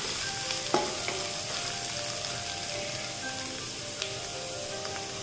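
Crushed garlic and onions sauté for Punjabi-style rajma masala, a dense continuous sizzle with an occasional clink of the spoon against the pan, close and steady.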